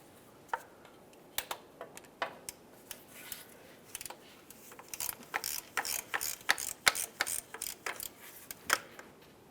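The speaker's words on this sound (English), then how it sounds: "We'll continue removing our 15mm headed bolts holding this in place." A ratchet removes 15mm bolts from the oil pan of a 2005-2010 Dodge Dakota with a 4.7L V8. Quick metallic clicks come in short bursts that grow busier and denser, close by and with no speech.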